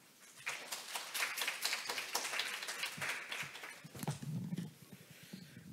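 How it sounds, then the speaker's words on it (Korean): At a conference session on the bio industry and ESG, an audience claps to welcome the speaker to the stage, with a burst of dense applause that builds and then tapers off. "큰 박수 부탁드립니다"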